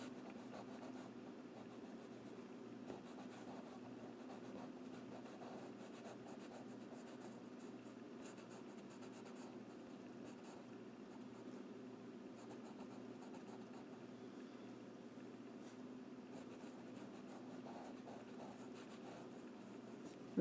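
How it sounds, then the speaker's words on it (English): Pastel pencil shading steadily on paper while darkening part of a kitten drawing, a soft continuous scratchy rubbing close by that runs unbroken for the whole stretch with no talking. "Come in with the pastel pencil and just darken it up a little bit."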